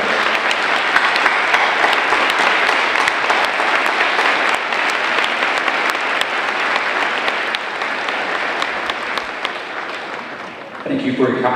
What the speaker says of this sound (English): Let's give these families a round of applause.